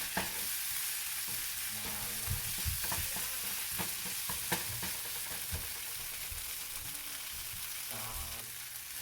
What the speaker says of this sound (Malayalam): നമ്മുടെ തക്കാളി വഴണ്ട് വന്നതിൽ കുറച്ച് വറ്റൽമുളക് കൂടി ആഡ് ചെയ്ത് കൊടുക്കാം